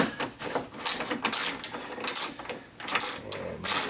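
A ratchet clicks in quick, uneven bursts while loosening 10mm bolts on the headlight bracket of a 2008-2012 Subaru WRX, close and crisp with brief pauses between strokes.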